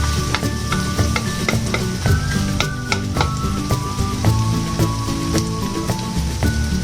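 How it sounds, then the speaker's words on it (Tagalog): Grated ginger sautéed in hot oil in a pan and stirred, a steady bright sizzle with repeated scraping strokes of a spoon against the metal, close and continuous with no talking. "Igisa-gisa."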